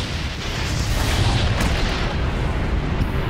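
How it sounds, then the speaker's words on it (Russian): A loud, rumbling explosion in the video game Garry's Mod that roars continuously for a few seconds, heavy and booming with crackling debris. "Ну, нормальный взрыв?"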